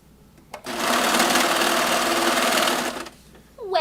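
A sewing machine stitches fabric for an idol dress, running in one fast steady burst of about two and a half seconds with a whirring buzz, starting and stopping abruptly amid quiet room sound.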